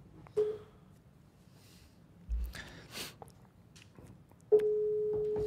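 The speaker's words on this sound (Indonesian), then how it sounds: "Orang pertama coba ditelepon." A telephone is dialed to place a call: a couple of short tones, faint handling noises, then a steady tone that holds to the end, fairly quiet.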